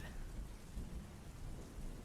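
Steady rain falls outside during a thunderstorm, a dense, low, rumbling wash of sound with deep thunder underneath, constant and fairly quiet, with no voices.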